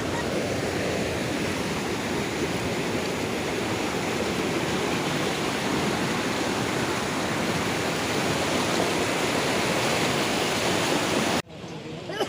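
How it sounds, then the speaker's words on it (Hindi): Steady, loud rush of the Sabari (Kolab) river pouring over sharp, jagged rocks at the Chhattisgarh–Odisha border, a dense continuous roar close by that cuts off abruptly near the end. "हम पहुंचे हैं सबरी नदी पर, जिसे कोलाब नदी भी कहा जाता है"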